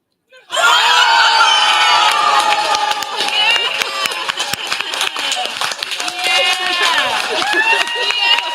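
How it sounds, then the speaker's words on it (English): Raucous applause and cheering from a crowd, starting abruptly and staying loud and dense, with whoops and shouts mixed into the clapping throughout. "And with the raucous applause that we just heard"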